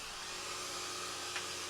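A vacuum cleaner runs with a steady, broad whooshing roar, close and unbroken throughout, with a faint brief click near the end.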